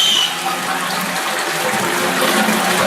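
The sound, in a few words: toilet cistern being flushed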